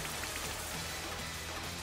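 Steady rain hisses across the field during a Pokémon battle in the video game, a dense, even wash of patter with no voices over it.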